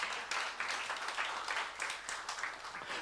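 A church youth congregation applauds during a sermon, a close burst of uneven clapping pulsing in waves for a few seconds, faint overall and without talk.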